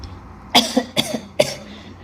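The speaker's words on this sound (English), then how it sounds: "Clearing your throat, dear friends." Throat clearing: three or four short, harsh, close-up coughing rasps in quick succession, loud against a quiet background.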